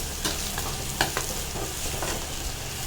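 Finely sliced onion sautéing in oil in a pan for spinach kadaiyal, a steady close sizzle broken by several sharp scrapes and clicks of a spoon stirring.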